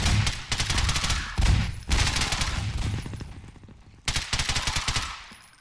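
Custom weapons in Garry's Mod fire loud, close automatic gunfire: three long bursts of rapid shots, separated by brief gaps.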